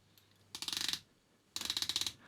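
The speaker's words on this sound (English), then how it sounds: "it's a 120 click unidirectional bezel" The 120-click unidirectional bezel on a Circula DiveSport titanium dive watch turns in two quick bursts, each a rapid run of about a dozen crisp, loud, close ratcheting clicks, separated by a brief pause.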